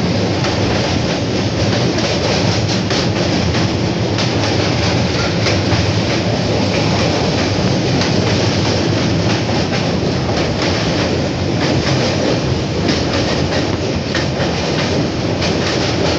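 An LHB-coach Jansewa Express pulls out of Simri Bakhtiyarpur station, a loud, steady rumble of rolling wheels and carriage clatter that stays close and unbroken throughout.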